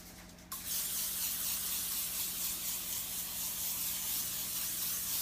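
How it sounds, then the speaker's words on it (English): Nonstick cooking spray is sprayed onto metal sheet pans in a kitchen, a sudden loud aerosol hiss that starts after a brief quiet moment and then holds steady and close, with slight pulsing as the can moves. "We are gonna spray them with nonstick."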